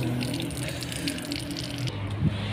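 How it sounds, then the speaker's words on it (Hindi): Water runs and splashes as a man washes his face, a continuous close wash of flowing, splattering water with a brief louder splash near the end. "भैया कह रहे यार मैं मुंह धो लेता हूँ"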